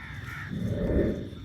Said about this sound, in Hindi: रात के 2-2-2:30 का टाइम है, कौवे बोल रहे हैं बहुत ज्यादा।